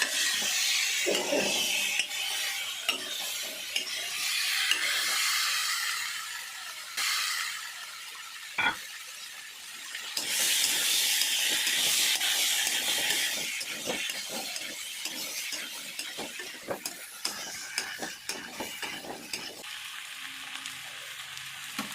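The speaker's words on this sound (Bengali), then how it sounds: "এবার চপড টমেটোগুলোকে দিয়ে দেবো। হাই ফ্লেম হবে।" Chopped tomatoes fry on a high flame for an alu dum made without onion or garlic. A loud, steady sizzle runs close and continuous, broken by occasional clinks and scrapes of stirring, with no talk.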